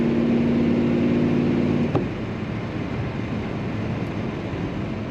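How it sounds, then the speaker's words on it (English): Steady low engine rumble from the exhaust of a 1972 Chevrolet Monte Carlo, heard from inside while driving; a faint hum fades out partway through. "Such a nice sound coming out the back of this car as well."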